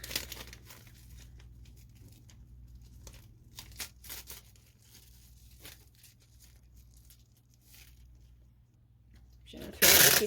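Tape being pulled and wrapped around an air layer on a plant, a series of short sticky rips and crinkles close by over a low steady hum, ending in a louder rustling burst.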